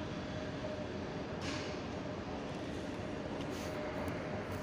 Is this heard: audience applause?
no